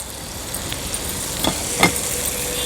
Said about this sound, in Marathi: आपण ही जी हळद तळून घेतलेली किंवा तुपावर परतून घेतलेली ही ॲड करूया